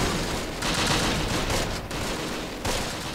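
Dense rifle and machine-gun fire crackles nonstop in the Close Combat: Wacht Am Rhein war game, with loud overlapping bursts that swell and dip slightly over a few seconds.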